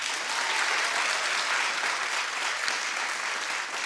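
Sustained audience applause for a show about Kourtney Kardashian's wish, a dense, steady wash of many hands clapping at even loudness throughout, with no voices on top.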